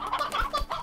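Chickens in Slime Rancher cluck in quick, close, bright bursts, several short clucks tumbling over one another within a second.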